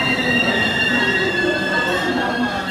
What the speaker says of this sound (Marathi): पहिले 10 मिनटं उशिराने ट्रेन आलेली आहे